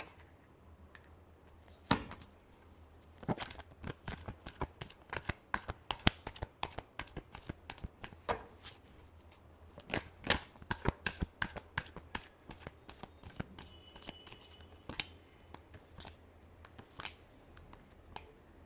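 Tarot cards being shuffled by hand, a steady run of quick, crisp riffling and flicking close to the mic, fairly quiet, with no talk over it.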